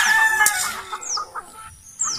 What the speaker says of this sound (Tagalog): Kaya aga-aga ay nagpapaligaw sa tandang.